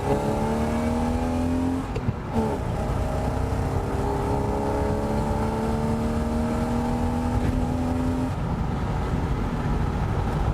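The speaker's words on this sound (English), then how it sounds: "Get some revs up here and see where she goes like." A BMW E36 car engine revs up and holds high, its pitch rising and dropping back a couple of times, loud and close with steady mechanical roar.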